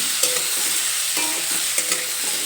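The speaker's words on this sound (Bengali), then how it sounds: "এই সময় আমি গ্যাসের ফ্লেম হাইতে রেখেছি হাই ফ্লেমে পেঁপে ভেজে নেব" Papaya pieces with salt and turmeric fry on a high flame, giving a dense, close, steady sizzle with a few light clinks and scrapes of stirring.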